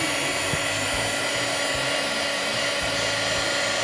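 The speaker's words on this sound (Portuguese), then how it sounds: "E agora eu vou passar o soprador para secar e colar." A hair dryer blows continuously and loudly at close range, drying and setting glue on a Christmas craft tin, its steady roar unbroken for several seconds.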